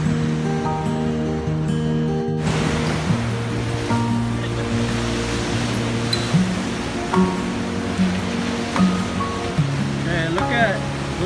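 Ocean surf rolls in at Surfer Point in Ventura, California, a continuous rushing wash of breaking waves, with a low steady hum running beneath it.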